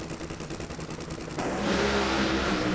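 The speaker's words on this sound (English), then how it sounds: "the tire spin off the starting line for Hunter Green sends Dad on to the next round" A Pro Stock NHRA drag car launches off the starting line with tire spin: a rough engine rumble bursts abruptly into a loud, sustained full-throttle roar.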